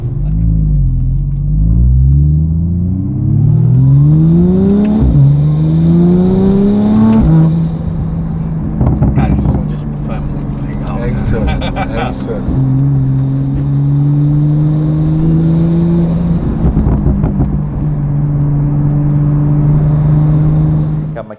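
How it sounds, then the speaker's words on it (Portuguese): A Porsche 911 Turbo S engine rumbles deeply and revs up repeatedly in rising pulls, then settles into a steady drone; loud and close, with brief voices between the revs. "Tem uma forma de tocar do ronco, aquele barulho meio grosseiro dos comandos, né?"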